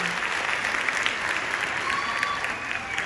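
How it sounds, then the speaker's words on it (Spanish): A crowd claps at a live comedy show in Mexicali, a fairly constant wash of applause with faint voices and a few brighter tones mixed in. "fuerte el aplauso para todos los VIP, fuerte el aplauso"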